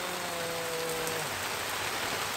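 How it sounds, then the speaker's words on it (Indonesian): Rain falls steadily over a bagan fishing platform at Tanjungkait, producing an even, dense hiss, with a faint humming tone in the first half. "Hujan bro. Hujan."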